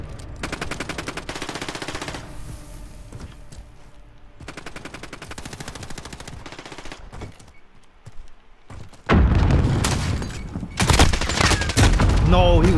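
Light machine gun and rifle fire in a 1v1 video game match, with repeated rapid automatic bursts trading back and forth, growing louder and denser toward the end.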